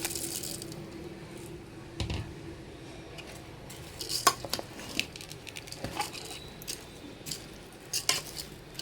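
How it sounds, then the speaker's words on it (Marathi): Rice being stirred into a masala mixture in a metal cooking pot for masale bhat, giving scattered scraping and clinking knocks of a spoon against the pot, fairly close and moderately loud, with no talk. "हे तांदूळ टाकून आपल्याला मिक्स करायचं आहे."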